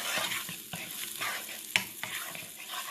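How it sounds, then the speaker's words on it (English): Onions sizzle steadily in a hot pan for fried rice while a utensil stirs and scrapes now and then, with a sharp clack midway. "We'll get that frying."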